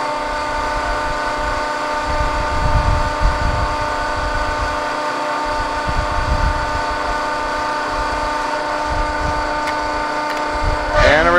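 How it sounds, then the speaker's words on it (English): A 230-ton, 12-foot Cincinnati hydraulic press brake, model 230CBx10, runs with a steady harmonic hum and whine. Uneven low rumbling surges pass beneath it, and a brief rising tone sounds near the end. "You can see there is a fast approach, a slow pressing forming speed."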